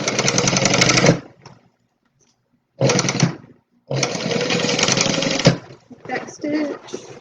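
A sewing machine stitches a tote bag in loud, close whirring runs: a long burst, a short pause, a brief run, then a longer backstitching run that ends in fainter clicks.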